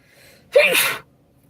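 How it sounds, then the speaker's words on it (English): A single sharp sneeze bursts out close by, preceded by a faint inhaled breath, then quiet. "Oop, I have to sneeze again."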